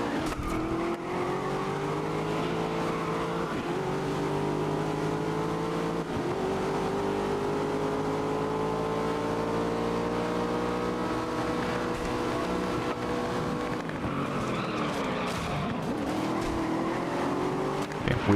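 Race car engine in the video game GRID (2019), loud and continuous, revving and shifting pitch through gear changes with brief tire squeal near the end, no speech.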